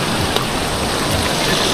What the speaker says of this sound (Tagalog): Malakas ng ulan niya?